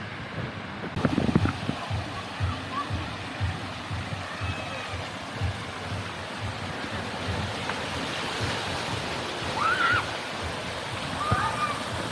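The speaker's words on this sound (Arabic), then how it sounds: "هتلاقي في ميه كده بتطلع من كل مكان" Water sprays and splashes steadily in the children's area of a hotel aqua park in Hurghada, a continuous broad hiss with faint voices in the background.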